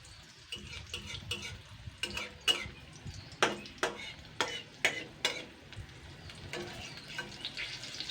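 An egg and flattened rice snack fries on medium heat in a pan, a soft continuous sizzle broken by repeated scraping and clinking as a utensil turns it over in a loose rhythm.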